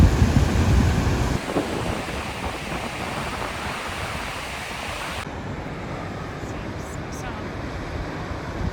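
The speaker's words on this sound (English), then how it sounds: "Godafoss waterfalls." A broad, steady roar of rushing water from Godafoss, a large waterfall in North Iceland, fills the clip, loud and constant, with wind buffeting the microphone.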